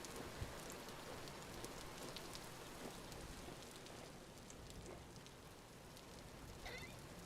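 Rain falling in the video game Vintage Story, a steady soft hiss of rainfall with scattered drop ticks, fairly quiet and continuous.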